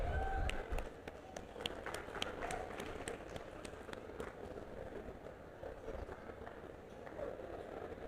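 An audience at a university convocation claps at a moderate distance, with a dense, steady patter of hands and a few sharper individual claps standing out across the whole stretch.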